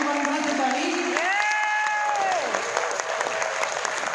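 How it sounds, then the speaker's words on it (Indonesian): An audience in Bali claps loudly and steadily, with a sustained voice rising and falling over the applause in the middle before the clapping carries on alone. "Boleh saya minta tepuk tangan yang paling keras untuk Bali?"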